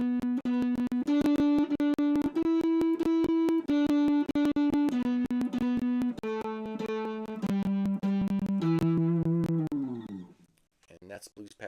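Distorted electric guitar plays a blues lead pattern with every note picked twice, moving up a scale and back down in steady loud doubled notes before fading out at the end.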